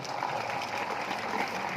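Audience clapping at a devotional discourse in Depalpur, Indore, a steady wash of applause heard at moderate distance without breaks.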